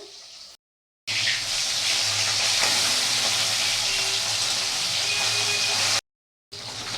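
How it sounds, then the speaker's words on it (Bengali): Fish fries in hot oil for a light papaya and green banana fish curry. A close, loud sizzle crackles continuously, broken only by short silent gaps near the start and end. "তো মাছটা ভাজা হয়ে গেছে তুলে নিচ্ছি"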